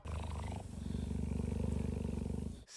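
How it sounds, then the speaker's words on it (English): A cheetah cub at the Cincinnati Zoo purrs in a steady, close, rhythmic low rumble that pulses evenly throughout, briefly preceded by a rougher growl-like onset and ending abruptly. "Lulu the cheetah cub enjoyed some pets and purrs at the Cincinnati Zoo"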